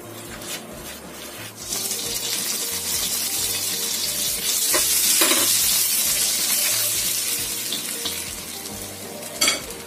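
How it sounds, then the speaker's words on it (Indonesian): Garlic and ginger sizzle steadily in butter in a hot pan with occasional stirring scrapes, a continuous crackling hiss close by. "Tapi ini aku akan tumiskan bawang putih beserta jahenya."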